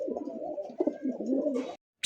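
Pigeons, a pair of pure local Golla pigeons, coo in low, rolling murmurs, close and continuous, with a brief rustle near the end before it cuts off.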